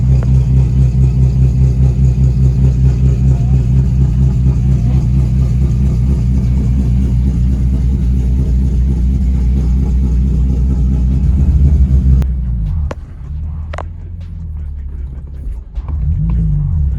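Infiniti G37 car driving, a loud steady engine rumble for about twelve seconds with rising revs, then the engine note drops off, leaving quieter idle and a few clicks.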